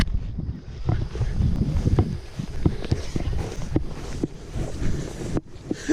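Wind gusts outdoors through tall grass, a heavy, steady low buffeting with rustling and scattered footstep-like thumps running throughout, close and fairly loud.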